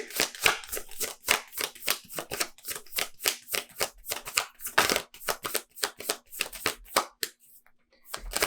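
Tarot cards are shuffled by hand in a fast, steady run of crisp riffling flutters that lasts about seven seconds, close and clear, then slows to a few last slaps, with no voices.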